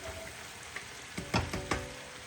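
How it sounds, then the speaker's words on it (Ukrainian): Low, steady sizzle of onion frying in oil, with a few brief clatters and stirring knocks near the end, close by. "висипаємо всю цибульку сюди до олійки і будемо її смажити"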